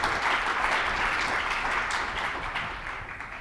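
Steady applause from an audience at a panel event on women leading social change, welcoming award-winning speaker Dr. May Al-Dabbagh; a dense, even wash of clapping that lasts throughout and slowly fades toward the end.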